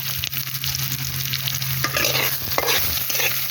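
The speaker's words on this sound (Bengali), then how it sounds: "খুন্তিটা দাও, আমি একটু লাড়া দিই" Chopped onions and tomatoes fry over a clay stove while a spatula stirs and scrapes them, with a constant sizzle broken by rhythmic scraping strokes up close.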